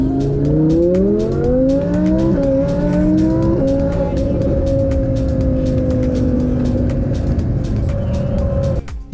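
An 850 bhp Audi R8 V10 Plus accelerates hard from 30 to 70 mph, its V10 engine rising loud and close through several quick gear changes before settling into a sustained high drone.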